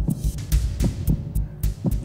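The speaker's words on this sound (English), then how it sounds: "That's the sound of my heart beating" A heartbeat sound effect from Metal Gear Solid 2 thumps in a steady double-beat rhythm, close and loud, with a low hum beneath and no voices.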